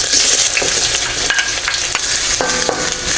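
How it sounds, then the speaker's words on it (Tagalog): A medium onion sautés in two tablespoons of oil, giving a bright, steady sizzle with clinks and scrapes of a stirring spatula close by. "Lagyan ko ng 2 tablespoon na oil. Ilagay po isang medium na sibuyas."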